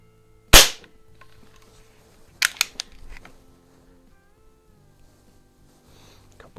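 Crosman model 66 Powermaster .177 multi-pump pellet rifle, one sharp loud crack near the start, then a few quicker snaps a couple of seconds later, in an otherwise quiet setting.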